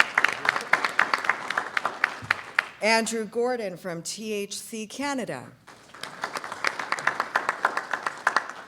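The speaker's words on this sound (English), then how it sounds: "A round of applause." An audience applauds at a cannabis industry leadership event in Surrey, steady clapping from a crowd filling the room, briefly interrupted while an announcer speaks over the microphone, then resuming.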